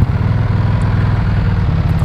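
An EBR 1190 SX motorcycle with aftermarket exhaust tips idles close by, a loud, steady low-pitched engine rumble with a slight uneven pulse throughout and no talk.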